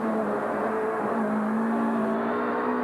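Toyota Corolla and other Australian touring cars lapping Lakeside circuit in 1993, engines droning steadily at a distance with a sustained whining tone and slight pitch shifts as they pass.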